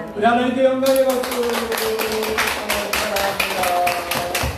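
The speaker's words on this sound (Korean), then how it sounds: "우리 하나님께 영광의 박수" A church congregation claps at a Sunday worship service, a dense wash of hand claps rising soon after the start and continuing steadily while a voice and sustained tones carry on underneath.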